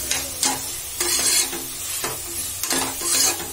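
Spiced paste for a paneer pulao frying in oil in a pan, with a steady close sizzle broken by several rhythmic scraping strokes of a spoon across the pan's base.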